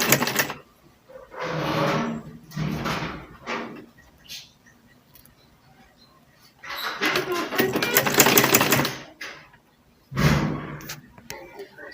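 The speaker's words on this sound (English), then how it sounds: "Then I'll continue with my stitching." A sewing machine stitches dress fabric in several short bursts of varying length, the longest running about three seconds, separated by near-silent pauses with faint handling noises in between.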